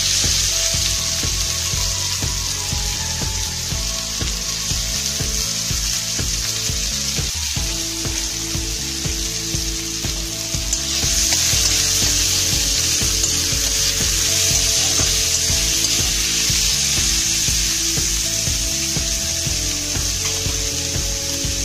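Chopped onions go into hot oil after cumin tempering for a Bengali dal, sizzling loudly and steadily throughout, with a few stirring scrapes and a brief clatter partway through; no one speaks.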